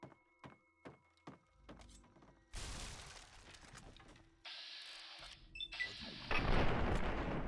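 Double-barrel shotgun fired in the video game Fallout 3: several sharp close blasts early on, then louder bursts and crashing noise building toward the end, with no talk.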